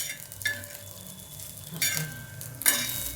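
Dried bombil and chutney ingredients sautéed on a low flame, with a soft background sizzle and three or four distinct spatula scrapes spread across a few seconds.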